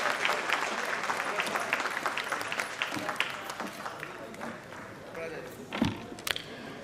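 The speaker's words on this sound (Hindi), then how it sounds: "दोस्तों पुरजोर तालियों के साथ उनका खैर मकदम किया जाए" Applause from an audience welcoming a guest at a communal harmony event, a dense patter of many hands that fades gradually, with a voice speaking over it.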